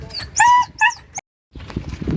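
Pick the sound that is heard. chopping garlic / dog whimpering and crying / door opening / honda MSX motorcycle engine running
dog whimpering and crying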